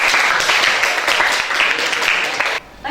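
Sustained classroom applause from a group of high school students, dense and steady for over two seconds before cutting off abruptly near the end.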